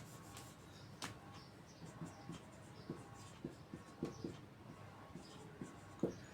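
Pen or marker writing out a physics problem on a surface, faint and close: a steady run of short scratchy strokes and taps in irregular rhythm, with soft quiet room noise behind and no talking.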